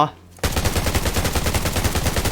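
Rapid automatic gunfire in the Undawn shooter game bursts in after a short quiet moment, a fast steady stream of loud close shots continuing to the end.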